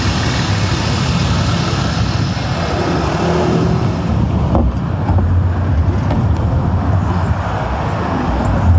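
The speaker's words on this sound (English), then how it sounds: "Big old bus coming right by me." A big bus drives past on a road beside a bridge near Heathrow Airport, a loud, sustained engine and road roar close by that swells slightly mid-pass amid general traffic noise.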